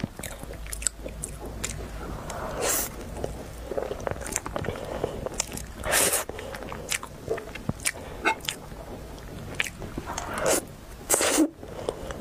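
Big bites into a lava custard mille-feuille crepe cake, soft squishy bites and chewing up close in a series of separate bursts, with faint rustles between them.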